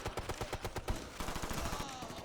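Rapid automatic gunfire in Ghost Recon: Future Soldier crackles in quick bursts of sharp repeated shots, a dense volley that briefly pauses before another burst.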